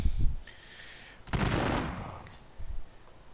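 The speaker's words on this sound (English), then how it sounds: "we'll start seeing some defensive fire going on" Defensive gunfire in a war strategy video game, a single rattling burst of rapid shots lasting about half a second, preceded and followed by quieter low thuds.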